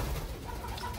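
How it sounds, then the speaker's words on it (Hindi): Several pigeons perched together cooing softly, a low continuous murmur of coos with faint fluttering, steady throughout the second. "ये तीन चार कबूतर आके बैठ चुके हैं"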